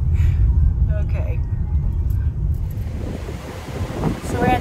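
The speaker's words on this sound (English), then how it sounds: "I know it's really windy today, so it might be canceled." Strong wind buffets the microphone outdoors near the sea at Cozumel, a loud, continuous low roar with gusts and faint surf underneath.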